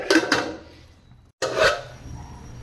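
Metallic clinks of a lid being set on a cooking pot of boiling water, a couple of sharp taps, a brief silence, then another clatter.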